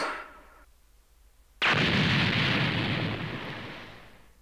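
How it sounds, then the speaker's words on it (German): A character blowing himself up in Dragonball Z: Budokai 3: after a short quiet gap, a sudden loud explosion bursts in and rolls on as a long, broad, roaring rumble that slowly fades, with no talking. "er hat sich in Luft gesprengt, so wie wir es gerade gesehen haben auf dem Kampf"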